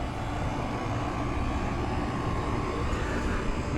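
A camera drone flies over a 1971 57-foot Sermons steel-hull expedition trawler on a waterway, its steady broadband whirring hum holding at constant loudness throughout, near and alone with no talk.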